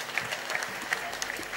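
Audience applauding the KDF at a gospel gathering, a faint, steady patter of many hands clapping from a distance, with light crowd murmur underneath.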